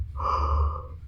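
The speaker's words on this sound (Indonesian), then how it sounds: "sorry gue nguap lagi" A single drawn-out, breathy human yawn, close and clear, lasting under a second.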